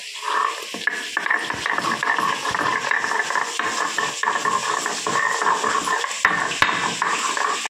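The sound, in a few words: grinding ginger and garlic on a shil-pata grinding stone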